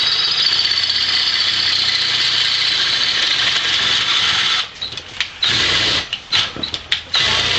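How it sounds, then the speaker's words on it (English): A battery-powered drill whirs in a high, steady whine, then cuts in and out in several short bursts as it bores larger holes into material nearby. "Now I just have to drill some bigger holes."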